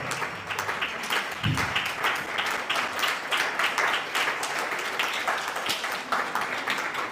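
A conference audience applauds steadily for Honorable Kennedy Ohene Ejapon at an innovation and entrepreneurship event, with dense clapping that holds at an even level throughout and no voices over it.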